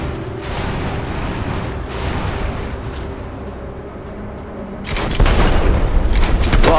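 A rocket explosion in the video game Starfield, a heavy booming blast that rumbles low and loud, with a fresh burst surging in near the end over continuous dense noise.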